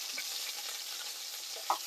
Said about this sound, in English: So keep this pan sizzling.